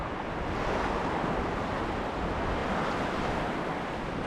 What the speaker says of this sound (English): definitely watch these waves. Look at that, these big guys rolling in right now.